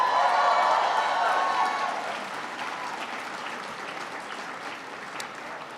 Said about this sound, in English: Can everybody please give a big round of applause to Judy Chu for her outstanding service?